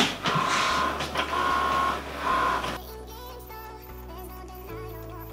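Inkjet printer printing an image: mechanical whirring with repeated print-head passes, then a shift to higher motor whines and clicks, close and clear.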